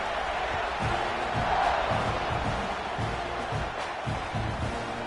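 Football stadium crowd at an Oklahoma game as the kickoff nears, a broad, steady roar of many voices at moderate level holding throughout with no single voice standing out.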